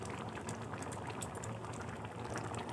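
Water boiling in a pot of vegetarian ghugni, a dense, continuous soft bubbling and popping that stays even and fairly quiet throughout, with no voices.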